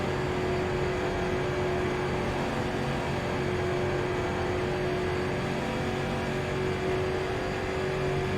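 Street stock race cars circle Charlotte in the iRacing sim, a constant droning engine roar with a steady whining tone that holds level throughout, no breaks or passes standing out.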